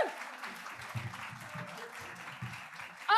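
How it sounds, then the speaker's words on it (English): Moderate applause from an audience at a local awards ceremony, soft steady clapping with a few low murmurs and voices mixed in, ending on a brief louder burst. "Huge applause, everybody."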